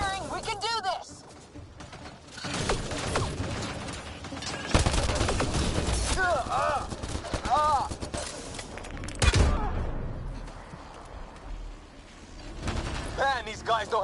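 Gunfire and combat effects in Mass Effect Andromeda, bursts of shots and heavy thuds with a loud impact near the middle, mixed with voices and musical tones.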